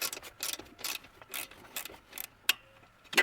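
A ratchet wrench clicks while turning a bolt on a car driveline during a vibration fix, with short bursts of ratcheting spaced apart and two sharper clicks near the end, close and moderately quiet.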